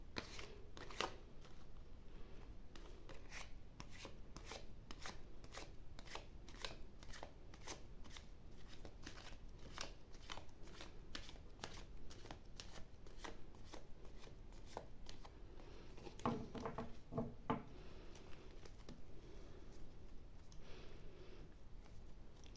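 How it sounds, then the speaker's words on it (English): Tarot cards are shuffled repeatedly in quick riffling bursts, a crisp rapid fluttering that recurs close by over a long stretch with short pauses. "Now let's shuffle the deck"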